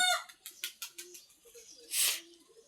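Domestic ducks on a farm call out in a quick run of short, close cries, then one louder, harsher call before quieter chatter resumes.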